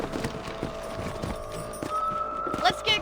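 Horse hooves clip-clop at a steady walking rhythm in the Red Dead Redemption video game, mixed under a continuous tonal music bed with a brief whinny-like chirp near the end.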